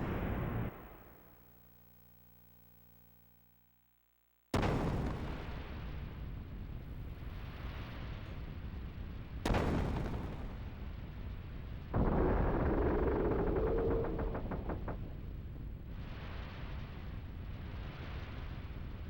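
Ship's gun blasts striking a hull in the video game Xenogears: a deep booming explosion after a brief silence, then a second heavy blast and a long rumbling roar with rattling debris.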